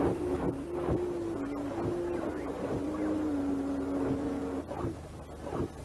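A swarm of robot dogs moving, giving a low droning whir with a steady pitched tone and repeated mechanical clatters and thumps, continuous and moderately loud.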